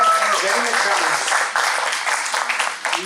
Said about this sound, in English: give a big round of applause to her